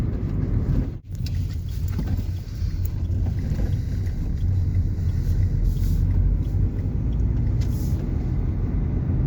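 Steady low road rumble from inside a moving 2014 Dacia Logan MCV 1.5 dCi, a constant droning hum with tire noise, loud and unbroken apart from one brief dip.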